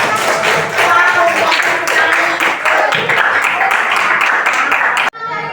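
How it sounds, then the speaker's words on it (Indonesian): A classroom of children applauds their classmates with a burst of dense, lively clapping that lasts several seconds and then stops abruptly, with voices mixed in. "Tepuk tangan dulu buat teman-temannya."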